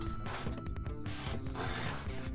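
A file rasps lightly along the edge of an axe head to knock off the burr, a close, continuous scraping rub in short strokes.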